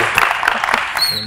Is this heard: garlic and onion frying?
no